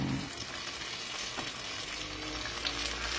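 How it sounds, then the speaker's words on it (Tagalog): Banana turon frying in hot oil, a dense, steady sizzle that fills the whole stretch at close range, loud and continuous without breaks or voices. "Opo, nagpiprito ako eh."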